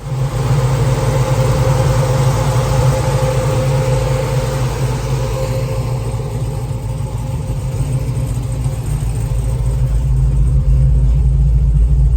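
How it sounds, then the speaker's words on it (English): A 426 HEMI Cuda with an EFI controller idles after a thermostat change and coolant flush, a steady loud low rumble heard close up with no talking. "the car's been idling for the last 10 minutes"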